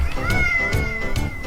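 A domestic cat meows repeatedly, three or four close, clear, tonal cries in quick succession with no talking.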